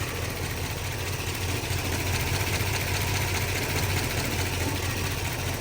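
Old Mopar car engine idling while smoking, turned around in a shop, a steady low rumble with faint knocking that stays constant throughout with no speech.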